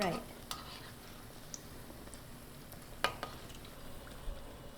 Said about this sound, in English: It is just the chickpea that needs to really fry.